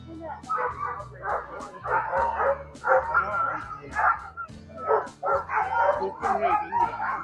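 Sled dogs barking and yipping in an excited chorus at the Iditarod ceremonial start in Anchorage, Alaska, a dense continuous din of overlapping barks with people talking through it.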